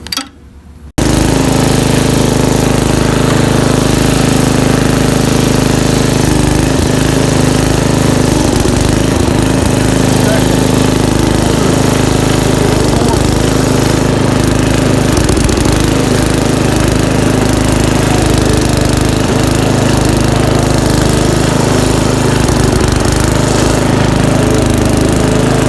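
A Snapper riding mower engine starts up and runs loudly and steadily close by, a continuous rough drone with a strong low hum that holds for the full length without a break.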